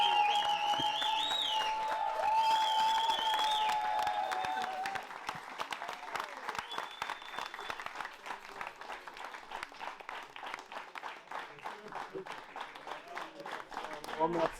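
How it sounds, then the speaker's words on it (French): Guests at a chef's signature dinner in Paris clap for the chef, loud and dense at first, then thinning into scattered claps with voices chattering over it. "applaudissez encore le chef"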